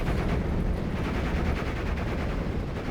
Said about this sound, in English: Now rocket strike coming in from the Panzerwerfer, making the enemy units fall back